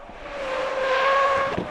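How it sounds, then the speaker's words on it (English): A car sweeps through an avoidance-maneuver tire test on a good tire, a steady broadband tire-and-engine roar with a rising tonal whine and brief squeal building toward the end, close and continuous. "Here's how a good tire performs in our avoidance maneuver test."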